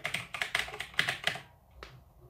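Fingers type on a Razer BlackWidow mechanical keyboard: a quick, close burst of crisp clacking keystrokes, then a short pause and one last isolated key press.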